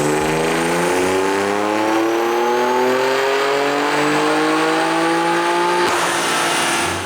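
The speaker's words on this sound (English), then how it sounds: "Before we run the M2 on a dyno" A loud BMW M2 engine on a dyno, running stock turbos with an off-the-shelf tune, revs steadily upward through the gears in one long, sustained pull, then the pitch drops abruptly as it lets off.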